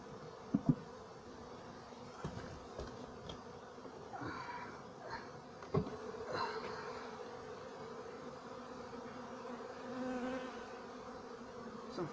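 Honeybees in an open hive give a steady, moderate hum with a few near individual buzzes passing by and soft handling knocks now and then.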